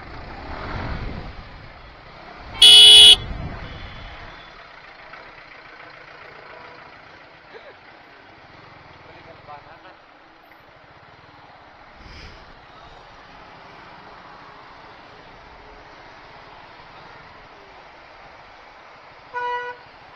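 Dense road traffic, heard from a Yamaha R15 V4 motorcycle, rumbles along with engines droning, a loud close horn blast early on and a second, shorter honk near the end.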